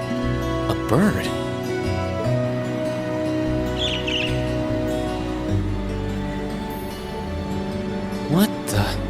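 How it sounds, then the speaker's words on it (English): In the video game The Legend of Heroes: Trails of Cold Steel, a bird chirps briefly in short tweets amid game music and sound effects during a bike ride in town. "I just got distracted by a strange bird on that lamppost"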